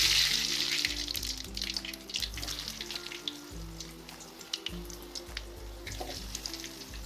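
Potato and bread snack pieces frying in hot oil, a bright steady hiss and crackle with scattered pops over a low background hum, close by.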